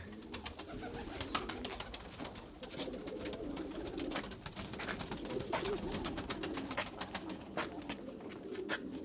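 Erzurum white pigeons coo close by in a loft, soft low throaty calls that repeat over a busy background of rustling and clicks, with no talking.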